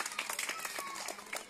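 Classroom of children clapping, a quick scatter of hand claps, fairly faint and slightly uneven, with a faint murmur of voices.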